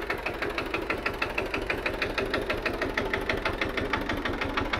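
An old tractor engine chugs steadily as the machine drives out, a loud, even knocking beat running without a break and with no talk over it.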